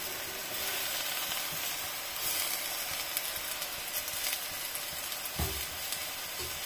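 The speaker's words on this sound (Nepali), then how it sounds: "अब निउरो हालेर मजाले चलाउनु।" Fiddlehead ferns sizzling in a hot pan alongside squash as they are stirred, a steady close frying hiss with occasional scraping knocks of the spoon.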